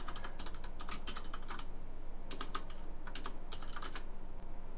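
Rapid keystrokes on a computer keyboard while commands are entered for a OnePlus phone in fastboot mode, clicking in quick bursts with short pauses, close and fairly quiet, no talking.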